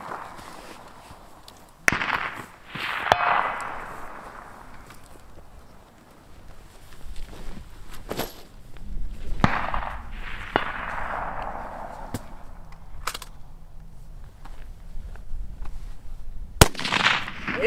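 Rifle shots ring off steel targets at a precision rifle match, a handful of sharp cracks spaced several seconds apart, each followed by a fading distant ring, with outdoor ambience and occasional low rumbles between.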